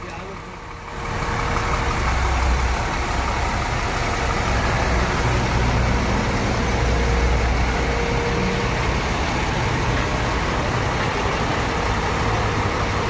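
A Rosalia Indah SR3 XHD tronton bus engine idles with a steady, continuous low rumble, heard close by from the rear. The drone holds at an even level throughout, and there is no speech.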